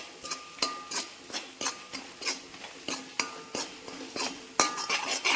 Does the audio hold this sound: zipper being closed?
no